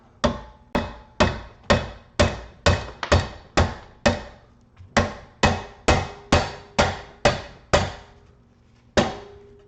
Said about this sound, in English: Big rubber hammer.